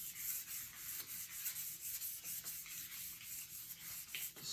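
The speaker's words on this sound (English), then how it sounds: "I'm going to take some 2000 grit sandpaper and I'm going to cup the neck with the sandpaper" Fine 2000-grit sandpaper cupped around a guitar neck and rubbed gently along it, a steady close soft hiss of abrasive strokes with slight rhythmic surges, no talk.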